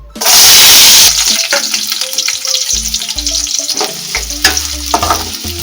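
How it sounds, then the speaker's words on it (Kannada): Chopped onions drop into hot oil in a pan with a loud, bright burst of sizzling, which then settles into a quieter, crackling fry broken by the scrape and clink of stirring. "ಸೊ ಇವಾಗ ಕಟ್ ಮಾಡಿ ಇಟ್ಕೊಂಡಿರೋ ಈರುಳ್ಳಿನ ಒಗ್ಗರಣೆ ಮಾಡ್ಕೋಬೇಕು"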